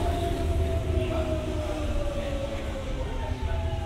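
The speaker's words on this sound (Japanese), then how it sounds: "でもまさしく入線メロディーは阪神電車の音です" A Hanshin Railway arrival melody plays over a station platform, sustained tonal notes with gently shifting pitch sounding above a steady low rumble of an approaching train.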